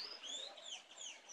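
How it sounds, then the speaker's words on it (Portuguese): A guinea fowl calls in a home garden, a run of harsh, high, repeated cries at steady moderate loudness with no talking. "Meu galizé cantando"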